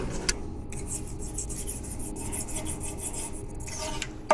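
Rhythmic close scrubbing and rasping as engine mating surfaces are cleaned on an L5P Duramax during EGR and DOC removal, with quick back-and-forth strokes and a few sharp taps.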